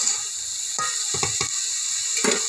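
Vegetables fry in a pan and give a steady, bright sizzle, with several short scraping knocks as a spatula stirs them. It sounds close, and no one speaks.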